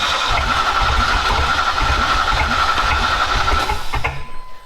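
A scrap-yard Chevy engine cranks and runs with a steady, rough mid-pitched drone, then cuts off abruptly near the end.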